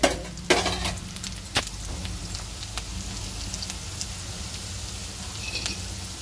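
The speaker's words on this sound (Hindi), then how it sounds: "थोड़ा सा 2 मिनट तक चलाते रहना है जिससे हमारा प्याज जले ना।" Onions frying in a pan with green chillies about to be added, giving a steady sizzle broken by a few sharp scrapes of stirring, heard close with no talk.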